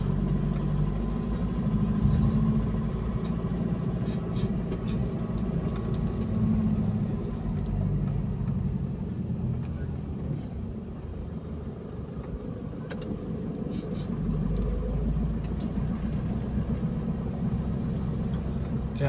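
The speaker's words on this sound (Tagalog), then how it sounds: "Grabe na naman ang traffic ah." Street traffic in Baguio City: cars and engines rumble past in a continuous moderate wash. Faint jingling and light clatter rise above it, and there is no speech.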